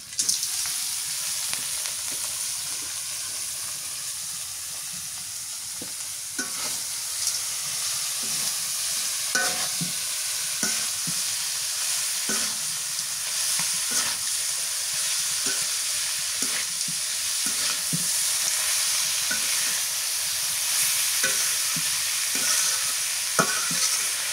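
Steady oily sizzling of bitter gourd frying in oil in a pan, with occasional scrapes and stirring clinks throughout, no talking.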